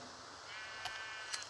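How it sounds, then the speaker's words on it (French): Sheep in a survival video game let out a couple of faint, thin bleats over a quiet background hum, brief and soft, with nobody talking. "Des moutons!"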